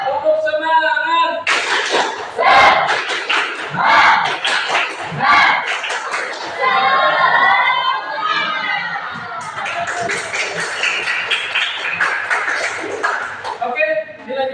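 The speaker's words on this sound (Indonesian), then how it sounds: "kita semuanya melakukan tepuk semangat" A group performs the rhythmic tepuk semangat clapping chant as a classroom ice-breaker, with sharp patterned claps between shouted chanting voices, close and loud throughout.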